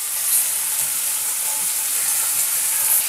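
Boneless chicken pieces and corn frying together for American chop suey, a continuous even sizzle with soft hissing steam, close and steady, no voices.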